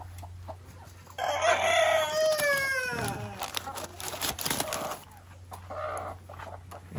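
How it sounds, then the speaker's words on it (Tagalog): Chickens on a farm cluck and squawk close by, one rising into a crow-like call, with scattered bird chatter over a low steady hum. "punta tayo dito sa ating mga manok"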